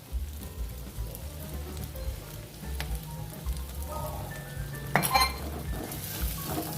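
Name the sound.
ground cinnamon, clove, cardamom, shahi jeera added to pan for bagara rice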